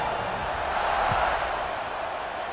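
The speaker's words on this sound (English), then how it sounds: "this crowd is buzzing after that last score" Stadium crowd at a UNC versus Clemson college football game, a steady, dense roar and murmur filling the whole stretch, broad and continuous with no single voice standing out.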